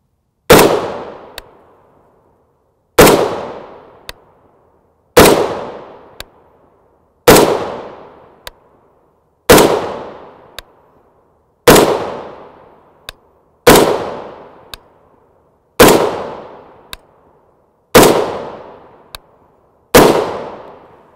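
A semi-auto rifle fires 7.62x51mm 168 grain OTM match Pine Valley Munitions ammunition, with ten sharp, loud shots evenly spaced about two seconds apart. Each crack rings out and fades with a faint echo and a small metallic click.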